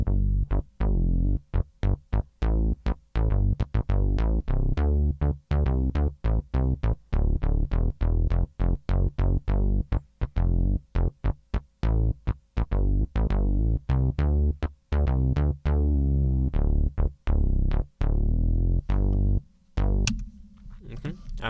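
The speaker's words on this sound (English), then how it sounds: "So I made this bass pattern, and this is how it sounds like." A synthesized bass pattern from a music production project plays alone: a steady run of short, punchy repeated notes in a tight rhythm with brief gaps, loud and dry, ending in a softer tail.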